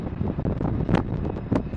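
Wind gusting by railway tracks, buffeting a nearby microphone as a steady close rumbling roar with brief surges, with no voices.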